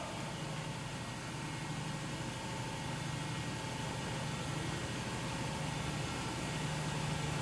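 A TOS Hostivar BHU 32A universal cylindrical grinder hums steadily as its variable-speed work head runs, a continuous mechanical drone with a faint tonal whine that holds nearly constant and slightly swells toward the end.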